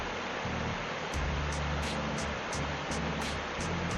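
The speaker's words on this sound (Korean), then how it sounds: "물소리만 들어도 행복합니다." Mountain valley stream in a primeval forest at Bangtaesan, a steady broad rush of flowing water with no voices.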